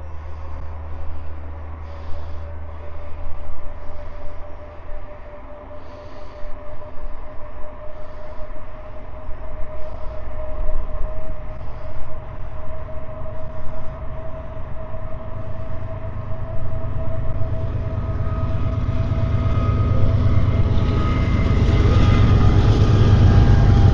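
A train passes beside a mixed-surface cycling route near Fort Worth and Roanoke, a steady low rumble with a sustained horn-like tone that swells louder toward the end as it draws near, no talk.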